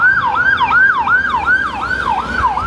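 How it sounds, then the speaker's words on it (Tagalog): Ambulance siren wailing in a street, a loud repeating rising-falling sweep cycling about every 0.4 seconds with steady road background, no talk. "May ambulansya."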